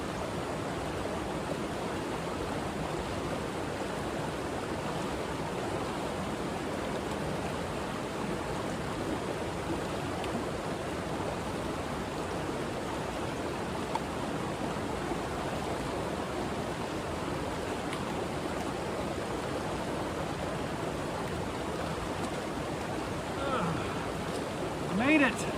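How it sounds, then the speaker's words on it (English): A small creek on the Benton MacKaye Trail flows steadily in a broad, even rush of water that holds constant and close throughout, with no voices over it. "I call it a pretty little creek, except it keeps getting in my way."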